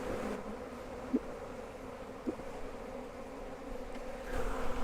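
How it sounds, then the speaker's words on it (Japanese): Honeybees buzzing around frames lifted from a hive on a windy April day, a steady low drone under gusty wind, with a few soft knocks. "ミツバチたちもご機嫌ですね。 ただちょっと風が強いんで刺されないといいな。"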